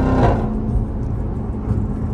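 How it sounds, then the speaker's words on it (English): A Jeep Grand Cherokee Trackhawk engine rumbles loud and close in a deep, steady drone, with a brief rise in revs near the start before settling. "Listen to the downshifts, y'all."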